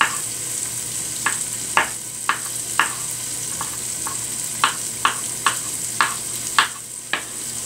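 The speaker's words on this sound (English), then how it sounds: "I'm just chopping them up." A knife chops mushrooms on a board in a home kitchen, about a dozen crisp, close taps in an uneven rhythm over a steady hiss, with no talk.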